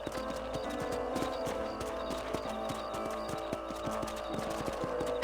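Horse hooves trotting in Red Dead Redemption, a steady fast clip-clop rhythm with a faint snort, close and continuous over a low background hum.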